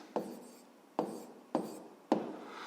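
A fifth-grade math equation is written by hand in four quiet, separate strokes that each scratch briefly and then fade, with no voices.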